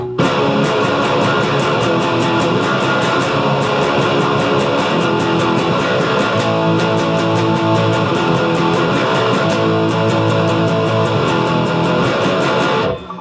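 Distorted electric guitar plays the bar-chord intro of a song, loud and continuous with steady strummed rhythm and no talking.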